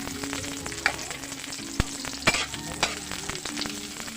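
Pork pieces for humba frying in a pan, producing a continuous crackling sizzle with a few sharp clacks of a spatula against the pan, with no talking.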